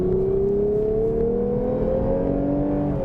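A 2021 Lexus IS 350 F Sport engine pulls hard out of a corner, its loud, steady note rising in pitch across the few seconds with no talking over it.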